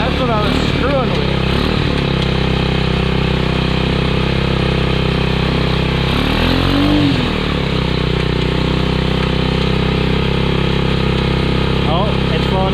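A Honda Trail 70 minibike engine runs steadily after kickstarting, a loud, close, continuous buzzing idle with slight revving swells, while people talk over it.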